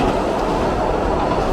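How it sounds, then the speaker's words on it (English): An elevated subway train rushes past at speed along Broadway, a loud, steady, close roar of wheels and rails filling the whole moment with no pause. "Just notice how fast the train is going."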